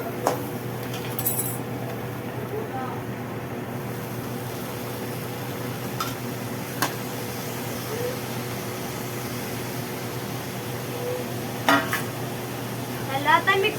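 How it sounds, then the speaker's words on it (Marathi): Kurdu greens tossed into a hot pan and stirred, giving a steady sizzle with scraping stir strokes and a few sharp clinks of utensil against the pan throughout. "भाजी टाकते ह्याच्यात."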